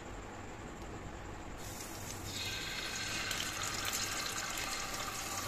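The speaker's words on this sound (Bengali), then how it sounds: "এবার আমরা জলটাকে ঝরিয়ে নেবো।" Boiled pasta being drained, its water pouring out in a steady wash that swells louder partway through, continuous and close with no talking.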